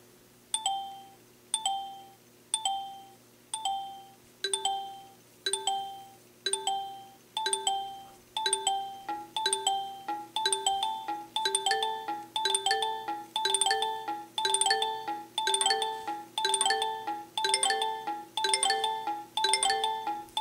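Bright chime-like electronic tones from a free iPad music app ring out as bouncing balls strike drawn lines, starting sparse and growing into a quicker, denser rhythmic pattern of pitched dings, alone and fairly soft.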